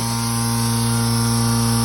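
The vacuum pump of a Schultzform VF8 vacuum former runs with a loud, steady mechanical hum and a strong tonal whine, close and unbroken for the whole short stretch.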